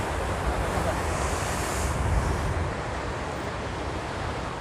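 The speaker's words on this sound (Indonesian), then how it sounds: "benturan ombaknya sangat tinggi dan sangat indah sekali belakang pantai" Heavy surf pounds the shore at Watu Lepek beach in Malang, a steady loud roar of crashing waves mixed with wind buffeting the microphone, with no break in the wash of water.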